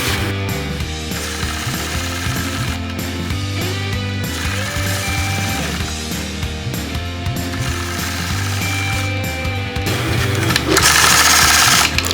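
A sewing machine stitches scallop quilting on a pineapple quilt block guided by a Sway Baby ruler, running in a steady loud mechanical whir with rhythmic needle clatter throughout, rising briefly in intensity near the end.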